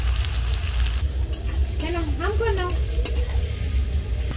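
Sliced onions frying into beresta for chicken biryani, a constant loud sizzle with stirring scrapes in the pan, while a voice talks partway through.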